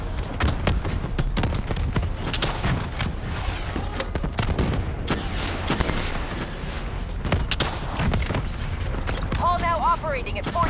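Gunfire fills a fight in the video game Call of Duty: Black Ops 3. Rapid bursts and heavy shots overlap loudly and without a break, with voices and electronic game effects mixed in.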